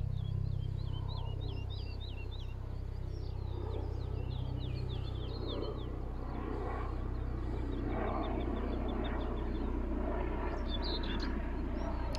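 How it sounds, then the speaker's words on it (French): A low, steady rumble of a helicopter drones overhead throughout, while birds chirp in the background. "Hélicoptère, je précise, c'est pour ça que je regarde. Ça va faire un peu de bruit peut-être."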